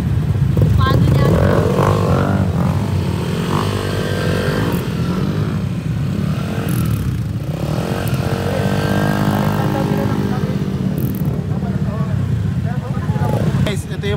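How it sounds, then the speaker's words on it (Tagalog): A friend's customized motorcycle with trimmed fairings runs close by, its steady engine drone and fluctuating revs continuing throughout while people talk over it. "ito yung motor ng tropa namin"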